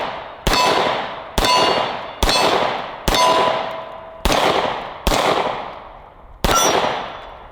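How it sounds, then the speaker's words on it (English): Seven sharp handgun shots of brass-cased Winchester white box ammunition fired at distant targets, evenly spaced about a second apart, each a loud crack with a ringing tail that decays before the next. "we got some brass-cased Winchester white box. Let's shoot it."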